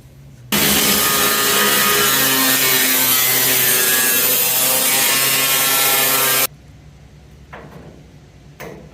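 Power saw cutting through the rusted steel roof panel of a 1977 Cutlass, a loud, steady harsh grinding whine running about six seconds before stopping abruptly, followed by faint clinks.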